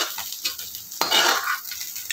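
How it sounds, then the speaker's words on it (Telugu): Bitter gourd porridge ingredients, coriander among them, are stirred and fried in a pan: a spoon scrapes and clinks in quick strokes over a soft sizzle. "ఇవన్నీ వేసుకున్న తర్వాత పచ్చివాసన పోయేదాకా వేయించుకొని వేరే ప్లేట్లో తీసుకోవాలి."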